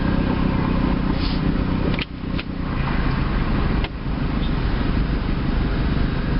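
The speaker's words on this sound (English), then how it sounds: "Gotta love city traffic." Steady city traffic rumble heard from inside a 2002 Mustang GT sitting at stoplights, a continuous broadband drone with a couple of brief dips and faint passing swells, no talking.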